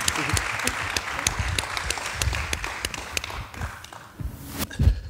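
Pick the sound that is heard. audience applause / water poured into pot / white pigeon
audience applause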